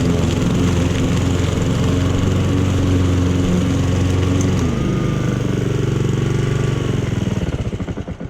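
A Honda lawn mower engine pulled from the trash runs loud and steady close by, a continuous chugging drone that rises slightly in pitch midway and then cuts off near the end.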